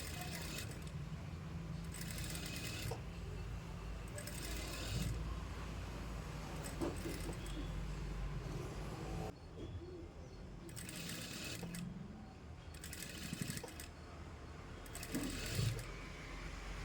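A sewing machine stitches piping around a blouse neckline in bursts of steady, rapid mechanical whirring. The runs stop and restart through the clip against a quiet room background.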